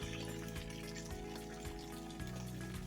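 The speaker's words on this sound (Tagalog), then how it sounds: "tumutulong tubig free lang" Water drips and trickles in a forest, a continuous soft splashing stream with regular faint drops under a low steady hum.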